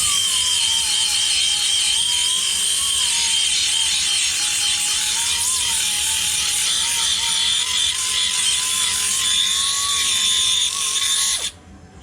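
A power sander grinds rusty metal on a VW Beetle quarter panel being prepared for TIG welding. It gives a loud, steady, hissing whine with a slightly wavering motor tone for about eleven seconds, then shuts off abruptly.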